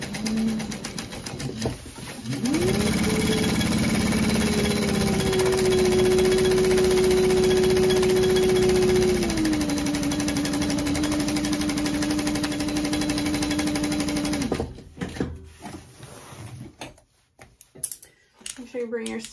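A sewing machine stitches a backpack, running as a steady, loud mechanical hum for about twelve seconds before stopping, followed by quieter handling noises.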